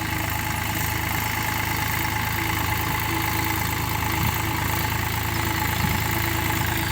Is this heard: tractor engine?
yes